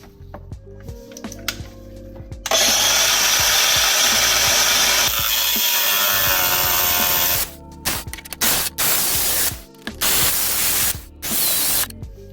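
A power tool cuts a notch in a Lotus Elise body panel to reach the fuel pump, a loud harsh grinding hiss holding for about five seconds, then stuttering in short bursts as the cut continues close up.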